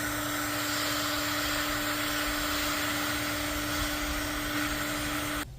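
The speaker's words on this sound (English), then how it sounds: "I'm going to use my heat gun." A heat gun blowing hot air during a kintsugi pottery repair makes a steady, loud blower roar with a constant fan tone, heard close and alone before it cuts off near the end.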